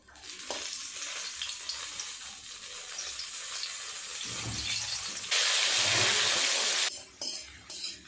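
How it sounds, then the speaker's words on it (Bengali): Potatoes sizzle and crackle as they fry in a pan of oil, with occasional stirring clatter, and the hiss swells loudly near the end as more potatoes go in; no voices. "লাল লাল করে আলুগুলো ভেজে নিয়েছি"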